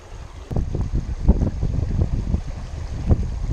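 Wind blows across a riverbank during fishing, buffeting the microphone in rough, low rumbling gusts that stay fairly loud throughout.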